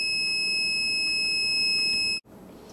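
An electric buzzer powered by solar cells drones steadily with a shrill, constant tone, then cuts off abruptly near the end, leaving faint background noise.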